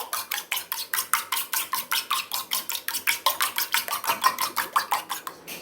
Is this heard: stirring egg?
yes